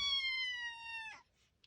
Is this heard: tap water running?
no